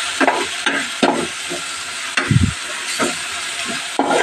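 Salted food is stirred in a frying pan, with a spatula scraping and clacking in an irregular rhythm over a steady hiss of sizzling, close and fairly loud.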